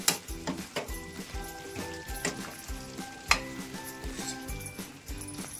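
Garam masala being stirred into a sizzling pan of frying food for a Telugu pendalam (purple yam) dish: steady frying sizzle with repeated scraping and clinking of a spoon against the pan, close and clear, no talking.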